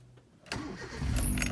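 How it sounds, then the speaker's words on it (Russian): A Hyundai Getz engine cranks and catches after a quiet pause, the start rising into a steady running rumble with a faint higher whine on top. "я решил после каждого затягивания включать автомобиль"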